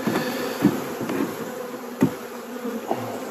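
Honeybees buzzing around a brood frame lifted from a beehive, a steady close drone with a few soft knocks of the frame, no talk.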